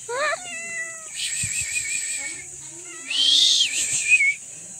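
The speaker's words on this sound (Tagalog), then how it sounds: "Nagutom yung pusa." A hungry cat meows outdoors in several drawn-out, rising calls with pauses between them, near and fairly loud, and a person speaks briefly.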